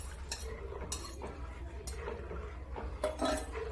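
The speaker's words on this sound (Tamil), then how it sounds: "ஃப்ளேம் வந்து மீடியமில் வச்சு கிளறிக்கோங்க. கையெடுக்காமல் கிளறிட்டே இருங்க" Spoon scraping and clinking steadily against a pan while grape juice and sugar halwa mixture is stirred over medium flame, giving rhythmic metallic taps over a low background hum.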